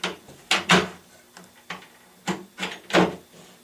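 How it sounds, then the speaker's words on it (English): Cabinet door hinges on a ready-to-assemble lazy Susan cabinet sliding into their mounting clips, a series of sharp clicks and knocks, some paired, spaced out over a few seconds against a quiet background. "We slide it right into the clips"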